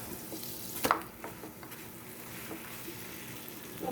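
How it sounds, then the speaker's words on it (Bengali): A flatbread sandwich fries in butter in a pan with a steady, close sizzle, broken near the start by a brief utensil clank against the pan. "দিয়ে এটাকে একটু বাটার দিয়ে ভাজবো।"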